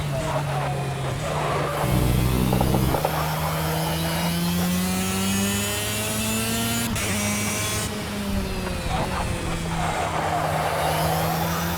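A superkart engine races at the UK Nationals in Project Cars career mode, loud and continuous, its whine climbing and dropping in pitch as the kart accelerates and shifts, with brief tyre-scrub noise.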